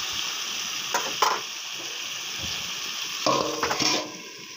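Potatoes and eggplant fry on low heat in a covered pan, giving a steady, close sizzle with a few brief clinks and scrapes partway through and no voices.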